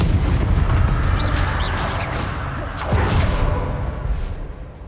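Incendio fire spell cast in Hogwarts Legacy sounds as a loud, close whooshing burst with crackling roar and rumble, continuous under the din of combat.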